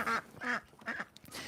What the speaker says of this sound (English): So that was the geese for you.